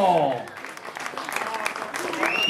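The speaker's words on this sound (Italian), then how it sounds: "Applauso!" Audience applause at a Miss Mondo Emilia beauty pageant award ceremony for the second-place finisher, scattered clapping under a presenter's voice and background music, fairly close and moderately loud.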